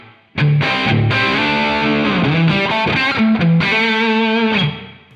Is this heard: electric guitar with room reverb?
yes